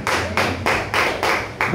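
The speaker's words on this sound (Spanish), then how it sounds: "Denle un fuerte aplauso al Señor," A church congregation claps in unison, five or six loud, evenly spaced broad claps with a faint voice beneath.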